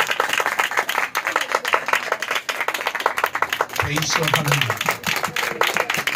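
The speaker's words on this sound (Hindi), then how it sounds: "हम जोरदार ताली बजाकर खुदा का नाम कर" A worship congregation claps loudly and rhythmically for the Holy Spirit during a Hindi-Urdu sermon, with sharp, evenly spaced claps and voices calling out over the beat.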